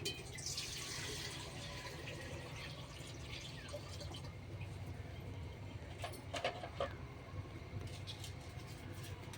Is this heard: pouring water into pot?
yes